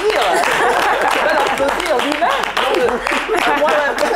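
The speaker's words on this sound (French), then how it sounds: "Je crois qu'on va l'applaudir, mais bien, bien, bien fort." Loud crowd applause fills the space, dense clapping mixed with cheering voices and chatter throughout.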